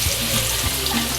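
Raw prawns slide into hot oil in a pan, giving a loud, steady hiss and sizzle that runs unbroken through the moment with no talking.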